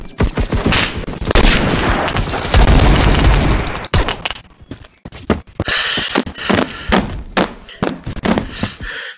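Gunfire in the Roblox shooter Phantom Forces: dense, loud bursts of rapid shots fill the first four seconds, then scattered single shots and short volleys continue at varying distances, alone without talk.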